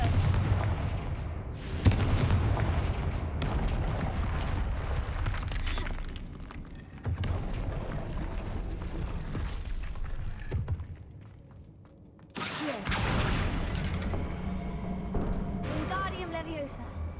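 Confringo blasting spells explode in the Hogwarts Legacy video game, a run of loud booming blasts with crackling debris over busy game sound, sharp impacts near the start and again later, with a voice heard between.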